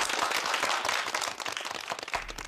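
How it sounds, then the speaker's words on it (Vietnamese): An audience applauds to welcome guests onstage, a steady burst of many hands clapping that thins out slightly toward the end. "Chúng ta hãy dành những tràng vỗ tay đồng nhiệt để chào đón họ nhé."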